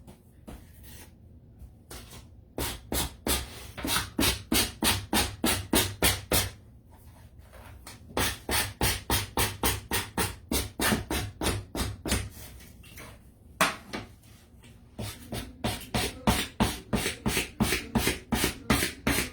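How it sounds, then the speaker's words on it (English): Painted Valentine's wall decor piece hand-sanded in quick rhythmic bursts of scraping strokes, close and fairly loud, in several runs separated by short pauses. "This doesn't sand as easy as the hymnal pages."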